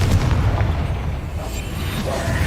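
The Confringo explosive spell cast in the Hogwarts Legacy video game: a loud, booming blast with a deep rumble that holds heavy and steady for a couple of seconds.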